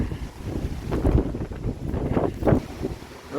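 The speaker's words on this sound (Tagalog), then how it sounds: "Malakas ang hangin ngayon." Strong wind buffeting the microphone outdoors near a tree with yellowing leaves, a continuous gusty rumble that swells and fades in irregular bursts.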